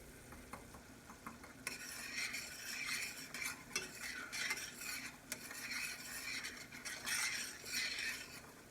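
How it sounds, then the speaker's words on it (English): A spoon stirs melting bouillon into a burrito sauce in a pan, scraping and swishing continuously with a broad hiss, growing busier after the first couple of seconds, close and steady with no talking. "And then stir that up. Get your bouillon melted."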